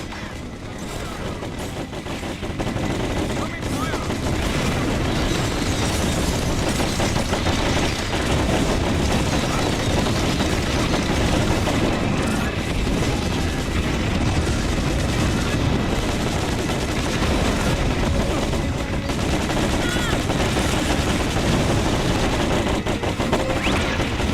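Enemy gunfire in the war game Battalion Wars 2 rattles on without a break: dense machine-gun bursts and volleys layered into a loud, steady barrage.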